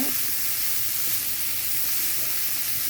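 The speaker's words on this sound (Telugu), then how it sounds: "చక్కగా వేగింది, కలుపుకున్నాము, వేగిందండి, కలిపాను." Banana flower curry frying in a pan makes a steady, dense sizzle, with a few faint scrapes of stirring near the start.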